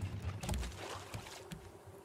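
Steady low engine drone from a raft's motors in the survival video game Raft, a continuous rumble with a watery wash that runs through the whole stretch, with no talk over it.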